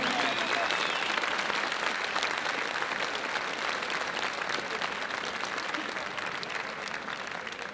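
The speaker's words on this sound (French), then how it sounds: "on va les applaudir toutes les deux parce que c'était superbe." A crowd at a kickboxing event, after a women's bout, applauds in a dense, continuous roar of clapping that holds steady for several seconds, a bit distant and filling the hall.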